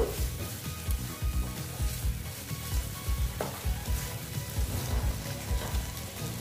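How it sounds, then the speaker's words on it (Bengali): Steady sizzling of pointed gourd frying slowly in a pan, a continuous crackle with occasional stirring scrapes, close and moderately loud, no voices. "এটা ভাজাটা আস্তে আস্তে সুন্দর করে কষিয়ে নেব"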